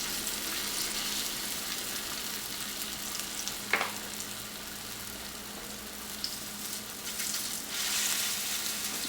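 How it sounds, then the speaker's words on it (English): Continuous crackling sizzle of potato pancakes made from leftover mashed potatoes frying in hot oil, steady and close, with a brief clink partway through and no talking. "I love that sizzling sound"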